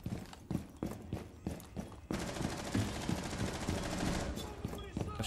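Gunfire in Rainbow Six Siege: rapid, repeated shots in quick bursts, loud and close, with a denser stretch of firing midway and voices talking over it.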